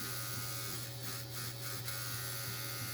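Centri Evader 3 Titan tattoo machine with a 6-volt motor runs as a steady, even electric hum throughout, with a few faint higher buzzing pulses near the middle.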